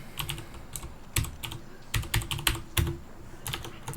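Keyboard clatter from a computer keyboard during a gaming session: quick bursts of close, crisp keystrokes in uneven clusters over about four seconds, with no voices.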